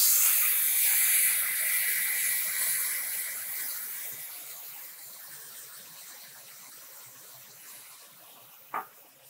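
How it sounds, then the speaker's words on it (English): A bright, hissing sizzle of water steaming king oyster mushrooms in a hot pan, loud at first and gradually fading, with a brief clink near the end. "A little bit of water, and that's gonna help steam them and really soften the mushrooms"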